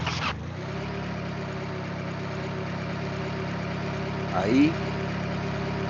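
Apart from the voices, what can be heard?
car engine started and idling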